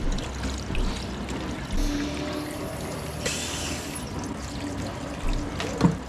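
Cold water pours steadily and splashes over a pressure cooker for several seconds, a continuous wet rush with faint hissing and a few small knocks near the end.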